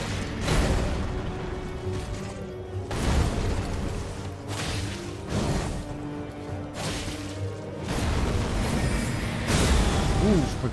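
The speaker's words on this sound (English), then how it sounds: "forgot he does the explosion moves" A boss's explosion attacks in Elden Ring go off as a series of heavy blasts and crashes, recurring roughly every couple of seconds amid game music and effects.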